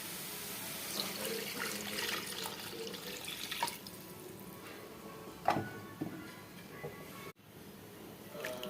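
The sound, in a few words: rinsing mixer jar and pouring water into curry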